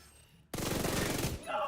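Flatline rifle from a video game firing a rapid full-auto burst, loud and close, with evenly spaced shots running about a second before cutting off.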